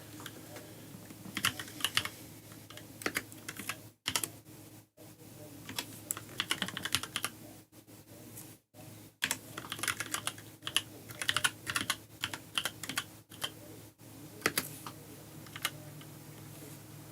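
Fast typing on a computer keyboard, close and clear, in uneven bursts of clicking keystrokes broken by several short pauses.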